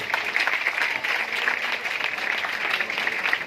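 Short burst of dense audience clapping at an education conference held in an English-medium school, steady and fairly close throughout with no talk over it.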